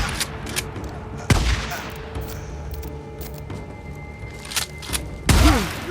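Gunfire during a raid on a marauder camp in the Days Gone video game: scattered sharp shots and a few heavier thumping bursts over a steady outdoor game ambience.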